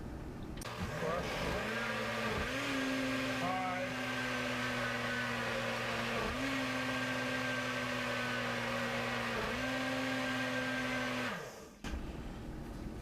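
A countertop blender whirs through a frozen fruit smoothie, its motor droning steadily with pitch dips as the load shifts, then cutting off abruptly near the end.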